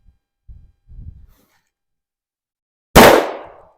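A single sharp, loud report from a Smith and Wesson M&P M2.0 10mm pistol firing a 180 grain Sig Sauer V-Crown round at a range, preceded by a few soft handling bumps.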